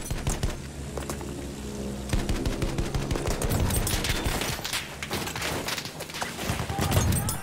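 Heavy gunfire in a video game with soldiers and tanks, dense rapid shots and bursts crackling continuously throughout, loud and close.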